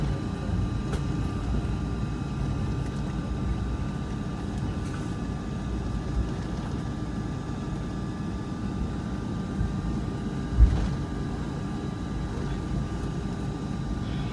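Inside the cabin of a Delta Airlines Boeing 757-200 departing El Dorado International Airport, a steady low jet engine roar fills the space continuously, with no talk.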